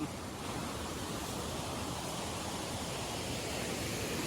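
Floodwater rushes hard past a rubber plantation, a constant, dense roar of fast-moving water that is fairly close and holds steady throughout, with no talk.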